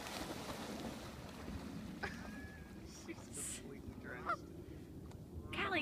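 Ducks on a lake, scattered honking and quacking calls over a steady rush of wind and water, with people talking throughout.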